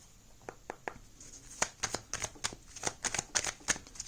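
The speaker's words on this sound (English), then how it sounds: "So now that I feel a little bit more centered, let me shuffle this tarot deck." A tarot card deck being shuffled close by, with a quick burst of riffling flicks followed by a denser run of crisp, papery snaps and slaps, loud and clear with no talking.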